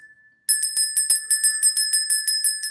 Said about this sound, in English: I'm gonna ring this bell here, okay?